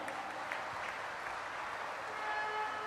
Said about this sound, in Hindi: आपकी तालियां बजनी चाहिए।